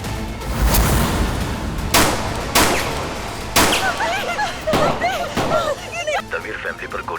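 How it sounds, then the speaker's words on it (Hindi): Several loud gunshots ring out at irregular intervals in a TV drama, each followed by a reverberant tail, with excited voices shouting between them. "तमीर फैमिली पर गोलियां चली हैं।"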